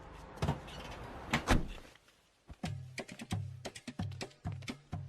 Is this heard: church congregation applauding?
no